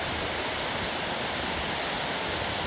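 Water rushing over rocks at an old cotton gin, a steady, dense hiss of flowing water that stays even throughout with no voices.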